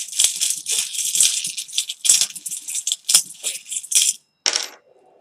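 Small metal charms shuffled and mixed by hand for a pick-a-card charm reading, a close, loud jingling and clinking in repeated bursts with short pauses, ending in a brief rattle.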